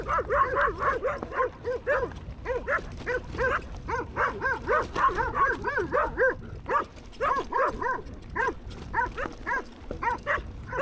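A dog in the desert barks loudly and close by in rapid, continuous bursts, a steady string of sharp yips and barks with little pause throughout.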